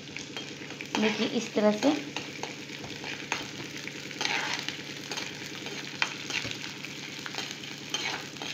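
Gond, an edible gum, roasts in a pan over low flame, giving a steady soft crackle and sizzle with stirring scrapes, near and moderate. A voice speaks briefly over it.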